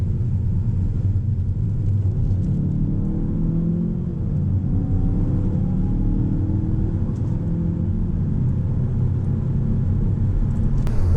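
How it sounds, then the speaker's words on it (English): A turbocharged car's engine drones steadily under acceleration on the road, a low rumbling hum with faint rising tones, heard from inside the cabin with no one talking. "the acceleration of this turbocharged motor is really"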